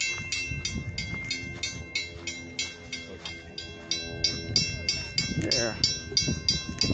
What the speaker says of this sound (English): we want to get the train going through the crossing if we can